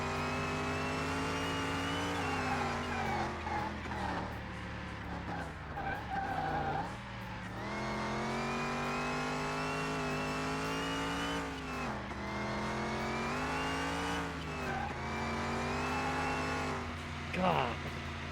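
Project car's engine held at full throttle, with rising and falling revs and tire squeal, loud and close throughout; a continuous roaring drone with pitch sweeps as the car struggles for grip.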